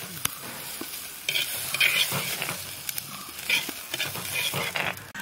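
Onion and garlic sauté in a hot pan for a Kerala-style sardine curry, with steady close sizzling broken by repeated scraping and clinking strokes of a stirring spoon.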